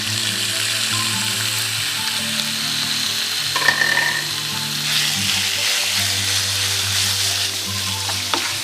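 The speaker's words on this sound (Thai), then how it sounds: "เราก็จะใส่หมูลงไปผัด" Pork stir-fried in a pan for a pork dish with fermented fish sauce gives a loud, continuous close sizzle, with a brief swell of scraping and stirring partway through.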